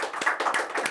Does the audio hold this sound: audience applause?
yes